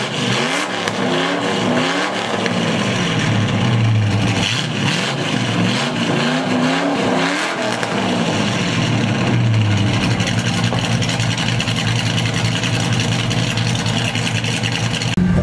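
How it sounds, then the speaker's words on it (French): A Ram SRT10 pickup with the Viper V10 engine revs hard at a burnout event, repeated throttle blips swelling and dropping, then a sustained loud roar close by. "Ram SRT10 avec le moteur de la Viper."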